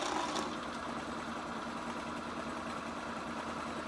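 A sewing machine runs steadily, stitching two rows of gathering stitches in fabric; a continuous, even mechanical whir with no pauses and no talking.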